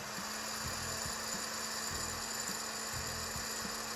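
PM-1200 popcorn machine running with its fan below the bowl, a steady close whirring hum with a faint regular ticking pulse repeating about every half second.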